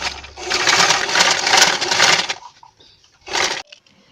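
A sewing machine stitches bias tape onto a plain frock in a loud whirring run of about two seconds, then stops, followed by a brief second burst after a pause.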